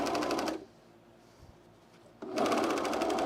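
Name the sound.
sewing machine stitching Sequoia cargo pants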